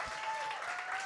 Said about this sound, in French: J'aimerais qu'on donne un bon applaudissement, s'il vous plaît, à Jonathan et Marie-Josée